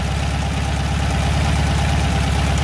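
A Volkswagen engine fitted with a new carburetor idles close by, a loud, steady low rumble with a fast, even pulsing beat.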